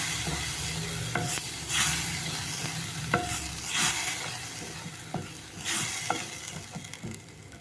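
Ground tomato and onion paste sautés in oil for a fish curry, a steady sizzle broken by repeated spoon scrapes and stirring knocks against the pan, close and fairly loud, with no talking.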